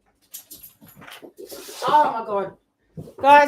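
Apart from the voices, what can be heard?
dogs whimpering and barking excitedly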